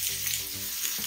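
Carrots fry in a hot wok on high heat for egg fried rice, giving a steady, close hiss of sizzling oil with a faint scrape of stirring.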